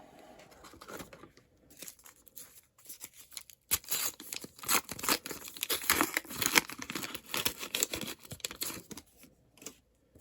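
Foil trading card packs of Lego Ninjago Series 10 are torn open and handled, giving dense crinkling and ripping close by that swells into a loud, busy stretch after a quiet start.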